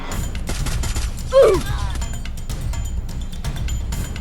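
Rapid gunfire bursts in a Thai-language anime-style video game featuring Tang San and Xiao Wu, crackling densely through the clip alongside game sounds and a swooping effect near the start.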